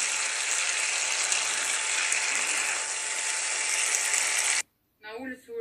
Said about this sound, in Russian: Вот такая красота жарится, это для осьминога заправка.